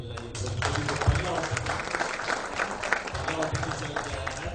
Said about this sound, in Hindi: इसके लिए आप तो जोरदार ताली बजाइए